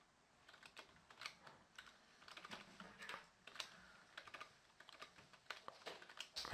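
Computer keyboard typing in soft, irregular bursts of clicks, faint and close, with no speech.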